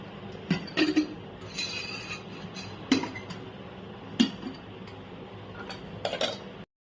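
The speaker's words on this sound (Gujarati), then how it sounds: "હવે એક હું લઈશ કુકર" Metal clanks and clinks of a pressure cooker being handled, a few sharp knocks spread over several seconds against a quiet kitchen background.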